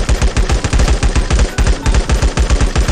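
Rapid automatic gunfire in the mobile survival game LifeAfter, a loud continuous burst of closely spaced shots in an even rhythm lasting the whole moment, with no talking over it.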